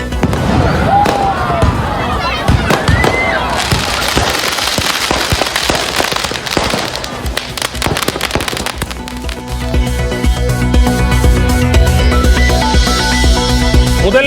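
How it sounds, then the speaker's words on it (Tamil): Fireworks pop and crackle in rapid bursts, loud and close, at a beach road celebration in Puducherry, later joined by music playing underneath the continuing bangs. "கடற்கரை சாலையில் கண்கவர் வான வேடிக்கை, நடனம் என அமர்க்களம்."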